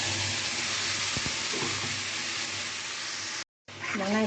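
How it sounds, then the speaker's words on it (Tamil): Ground onion and tomato paste sizzles in hot peanut oil in a pan for mushroom biryani, a steady close hiss, with stirring scrapes and a short break near the end. "வெங்காயம், தக்காளி கொஞ்சம் வதங்கிட்டு இருக்கு"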